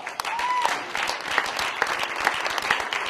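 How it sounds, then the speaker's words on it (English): A round of applause at a political gathering, steady crowd clapping with sharp individual claps standing out and a brief whistle near the start, moderately loud and continuous. "Let's give him a round of applause"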